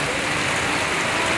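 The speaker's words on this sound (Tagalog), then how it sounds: "Kasi grabe talaga yung ulan dito." Heavy rain pours down outdoors near a hanging bridge in stormy, windy weather. It is a dense, steady roar with no break, loud and close, and no voices are heard.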